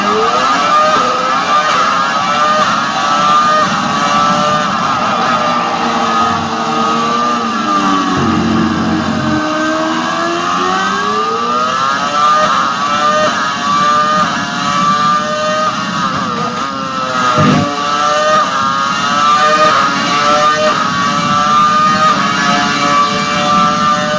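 A 2009 Brawn BGP001 Formula 1 car with a Mercedes V8 engine screams at high revs, with its pitch rising through the gears and dropping briefly, sustained and loud throughout.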